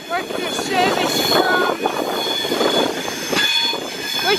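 Class 390 electric train 390 047, on a London Euston to Edinburgh Waverley service, rolls through Crewe station with loud wheel squeal, rail clatter and mechanical hum, while a voice talks over it.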